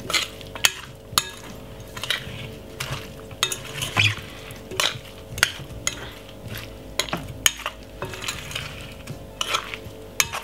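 New potato salad is stirred with mayonnaise in a bowl: a run of rhythmic scraping strokes punctuated by sharp utensil clinks, close and steady, with no talking.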